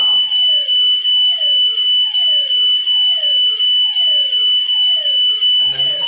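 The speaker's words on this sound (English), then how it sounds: "Smoke alarm up here, I'm going to trigger the smoke alarm" A smoke alarm on a Texecom alarm system blares a piercing, steady high-pitched tone, layered with repeating falling chirps, loud and close, before cutting off near the end.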